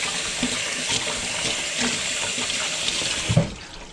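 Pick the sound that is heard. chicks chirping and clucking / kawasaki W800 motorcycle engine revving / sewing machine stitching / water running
water running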